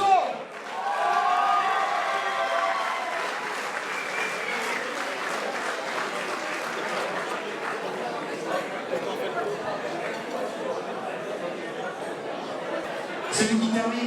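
Audience applause rings out at an OFAC 2014 awards ceremony, a sustained, dense clapping from a large crowd lasting throughout, with chatter mixed in and a host's voice briefly at the start.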